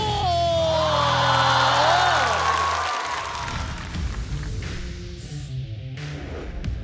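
A stand-up comedy show audience erupts in loud cheering and whooping as a comedian is introduced, the crowd noise swelling over music before settling into sustained applause.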